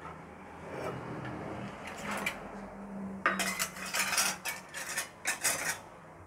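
Onions being finely chopped with a hand vegetable cutter: faint clicking and rustling at first, then a burst of repeated sharp plastic clacks and chops in quick, uneven rhythm, close by.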